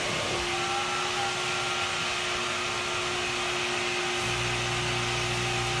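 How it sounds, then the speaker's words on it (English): A carpet extractor vacuum pulls pet urine up from deep in a carpet through a small attachment. Its high, steady suction whine runs without pause, and a lower motor hum joins in near the end, close and loud, with no talking. "we really want to get this urine down from deep down in the carpet"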